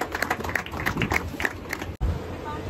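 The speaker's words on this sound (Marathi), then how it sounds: "जोरदार टाळ्या सरांसाठी" An audience at a literary gathering claps in quick, rhythmic bursts, with voices mixed into the applause before it cuts off abruptly.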